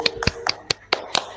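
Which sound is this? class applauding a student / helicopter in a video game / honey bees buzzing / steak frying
class applauding a student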